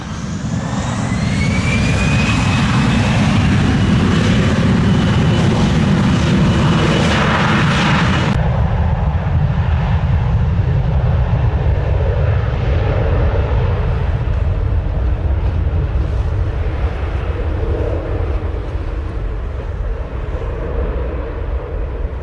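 Jet airliner taking off from runway 07 at Montego Bay, Jamaica: a loud, sustained engine roar that holds steady throughout, with a brief whine early on before the sound settles into broadband rumble.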